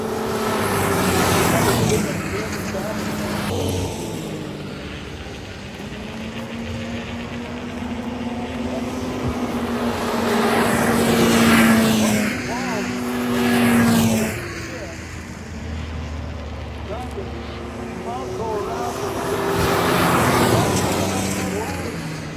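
Vintage snowmobiles race on the frozen course at Priest Lake, engines droning and rising in surges as sleds pass, loud and steady with a commentator talking over the roar throughout.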